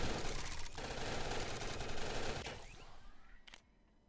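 Deployed turrets in a video game firing in dense, rapid automatic bursts, loud and continuous for about two and a half seconds before thinning out and fading away.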